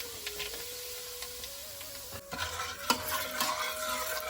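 Mustard seeds, cumin and asafoetida sizzle in hot oil, a soft crackling hiss with a few scraping stirs and a faint steady hum in the background.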